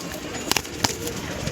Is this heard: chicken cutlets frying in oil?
no